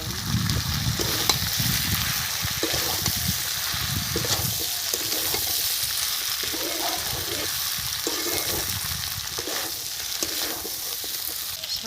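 Eggplant pieces fry in fish oil in a pan, a steady loud sizzle with repeated stirring scrapes throughout, close up and without talk.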